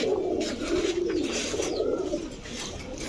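Pigeons, including Pakistani high-flyers, coo in a steady, low, rolling murmur, close by and continuous, with faint higher chirps scattered over the top.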